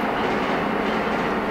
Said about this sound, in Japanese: 電車来ました。